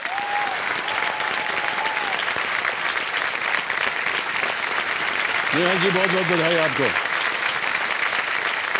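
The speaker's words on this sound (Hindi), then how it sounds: "ताली बज जाए इनके लिए।" A studio audience at a television quiz show claps loudly and continuously for a contestant, while someone speaks over the applause at the start and another voice briefly joins partway through.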